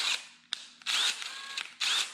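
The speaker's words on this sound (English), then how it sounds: "This is certainly a beast of a drill." A DeWalt Xtreme 12V Max brushless screwdriver, model DCF601F2, whirs in three short bursts of high-pitched motor whine, each starting and stopping abruptly with brief quiet gaps between, close and fairly loud.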